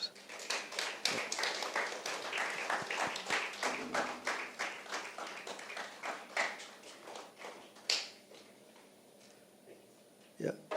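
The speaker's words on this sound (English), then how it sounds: "Members, let's have a round of applause" A modest audience at a one-day tax audit seminar gives a round of applause, clearly separate claps that thin out and fade after about eight seconds, with a few last claps near the end.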